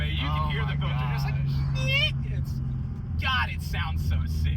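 A Ford Mustang with a 4.6 3V engine drones steadily under acceleration, its intake filter adding a low rumble, while people talk loudly over it inside the car.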